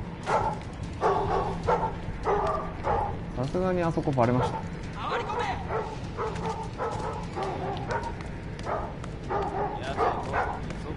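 Dog barking and yipping in the stealth video game Thief on PS4, a few sharp game barks heard beneath steady Japanese commentary from a player talking throughout.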